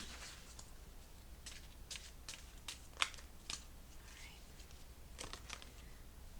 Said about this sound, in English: I'm going to shuffle them a little bit more.